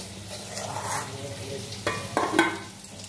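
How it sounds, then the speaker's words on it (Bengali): Boiled potatoes are stirred and mashed into a sizzling mixture in a pan, with soft scraping and frying crackle and a few sharper clatters of the utensil toward the end. "আলু সেদ্ধটা দিয়ে মেখে নেব।"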